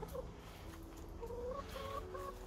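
Chickens in a backyard coop cluck softly in short repeated calls, faint and close, with no talk.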